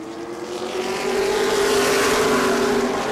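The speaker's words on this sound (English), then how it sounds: "Darren Brown keeping to the inside down the backstretch" Race car engines on the New Smyrna oval during a FASCAR restart behind a pace truck, a loud sustained roar of several cars that builds over the first second and holds steady as the field accelerates down the backstretch.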